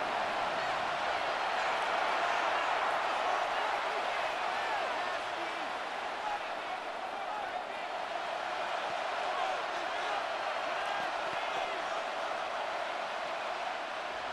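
Stadium crowd noise from a Madden 26 football game between the Philadelphia Eagles and Dallas Cowboys, a steady, distant wash of murmuring spectators holding even throughout with no sharp cheers.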